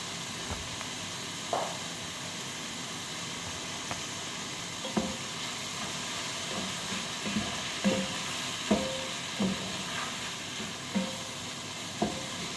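Chicken hearts frying for adobo in a pan give a steady, even sizzle throughout, punctuated by scattered clinks and knocks of stirring, with no talking.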